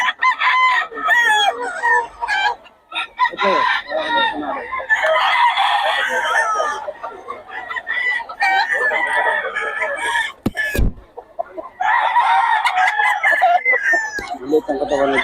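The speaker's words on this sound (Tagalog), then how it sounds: "Ay po yung manok." Loud rooster crowing repeats several times over busy hen clucking, with brief voices breaking in partway through.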